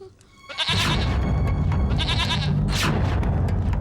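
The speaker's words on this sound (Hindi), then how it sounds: "वो बकरी देख रहे हो तुम?" A goat bleats in several loud, wavering calls close by, the first starting after a brief quiet moment and repeating in quick succession.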